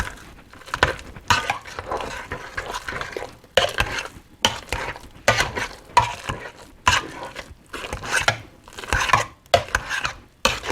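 Potatoes are mashed by hand with warm whole milk in a bowl, giving repeated squelching, thudding strokes in a steady rhythm, close and moderately loud, with no talking.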